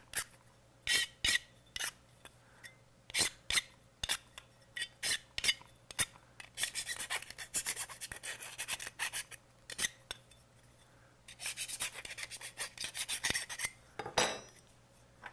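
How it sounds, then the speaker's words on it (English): A hand file rasps a freshly cut chassis part in short, repeated strokes, some quick and separate, others in longer scraping bursts, close and clear, with no one talking. "get that file on it."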